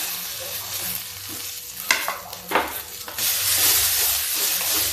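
Chopped tomatoes drop into onions frying in a pan for ghughuri, with a few scraping stir strokes before the oil flares into a loud, steady close-up sizzle and hiss.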